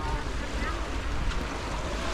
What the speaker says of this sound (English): So this is Yanui Beach. It's popular.